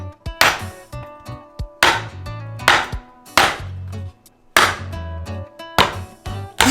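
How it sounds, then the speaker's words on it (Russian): The back of a knife strikes a drinking coconut in sharp, hard knocks, about seven close, loud taps at uneven intervals, each ringing briefly, with no voices. "начинаем стучать тыльной стороной ножа."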